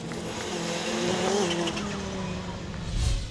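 Race cars at Lydden Hill during a British rallycross round, engines droning steadily with rising and falling pitch as they pass, and a louder surge near the end; no voices over the engines.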